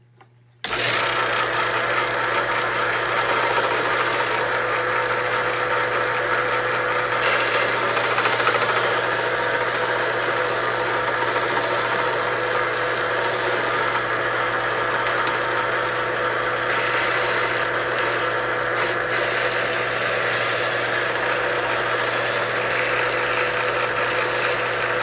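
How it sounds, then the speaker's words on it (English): A strip sander runs continuously while cleaning out and rounding the mouth of a wooden butter dispenser, a loud steady mechanical whir with a low hum and rattling vibration that starts abruptly and holds for the whole stretch, with slight shifts in load. "Now I'm going to clean the mouth of this out using the strip sander and round it off."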